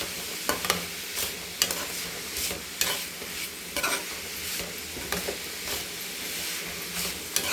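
Carrot egg podimas with turmeric and chili powder is stirred in a hot pan, giving a steady sizzle broken by regular scraping strokes of the spoon, close and fairly loud.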